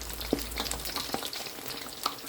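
Onion bhaji pakoras bubbling in hot oil, a soft, fairly quiet crackling fry with scattered pops and a couple of brief clinks near the start, nobody speaking.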